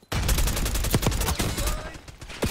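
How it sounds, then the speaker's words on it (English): Rapid gunfire bursts and a booming grenade blast in a multiplayer shooter video game, loud and dense throughout with sharp overlapping shots. "Grenade going out."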